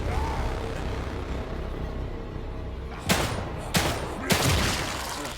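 Gunfire in The Evil Within 2 video game: three loud, sharp shots spaced about a second apart burst out over a dense, rumbling game ambience.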